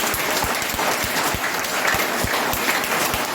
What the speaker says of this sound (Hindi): एक बार आपके हाथों से एक बार जोरदार उसके लिए तालियां बजाएं